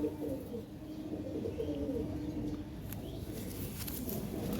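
Pigeons of a prized breed coo in soft, low, repeated notes under a constant murmur of background noise, with faint higher chirps now and then.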